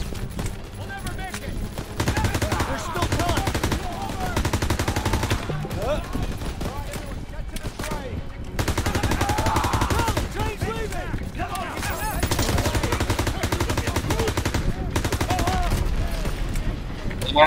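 Sustained gunfight gunfire in Call of Duty: WW2's campaign, with dense volleys of rifle and automatic shots crackling throughout while players talk over the action.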